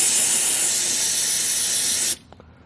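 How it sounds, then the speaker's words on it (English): A steady, loud hiss of pressurized water spraying continuously for about two seconds, then cutting off abruptly into near silence. "now let's just spray it off so we make sure it's not leaking"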